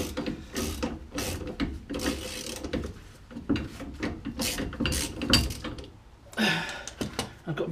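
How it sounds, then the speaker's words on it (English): Ratchet clicking while a bolt is backed out of the rear drum brake of a 1991 Toyota Celica GT, with irregular close bursts of pawl ticks and some metallic handling sounds between strokes. "It gave me enough room to get in with the ratchet. So I'm just getting this last bolt out."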